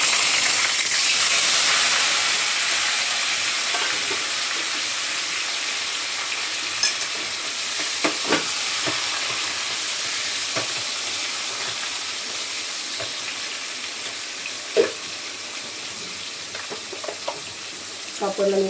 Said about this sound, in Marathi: तेलामध्ये चांगलं तळून घेते